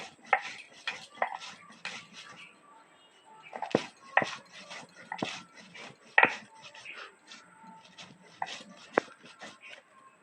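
Ingredients for a paratha filling being ground dry without water, producing irregular scraping, knocking and gritty rubbing bursts of varying loudness, close and alone.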